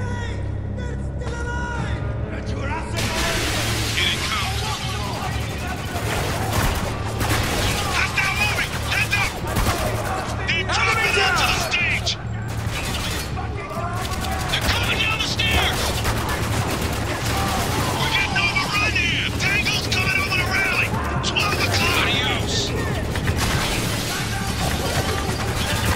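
Sustained firefight in Spec Ops: The Line, a steady stream of overlapping gunshots, bursts and impacts for the whole stretch, with voices calling out amid the shooting and game sound around it.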